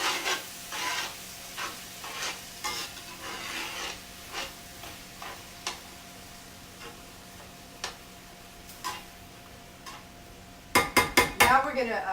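Whole wheat spaghetti is stirred in a pot, with a run of light utensil clinks and scrapes against the metal, ending in a quick burst of sharper clatter.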